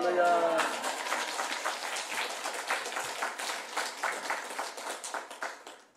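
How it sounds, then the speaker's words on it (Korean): A church congregation claps in welcome after a shouted hallelujah, a moderate, steady patter of many hands that follows a brief voice at the start and gradually thins and fades out. "우리 여러분 나올 때 할렐루야 하고 박수로 환영하도록 하겠습니다."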